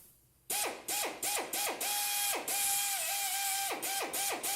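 A power drill bores small pilot holes into a car's door sill while rock sliders are fitted, close and loud, in a string of short ratcheting bursts that rise and fall in pitch as the bit bites and eases off.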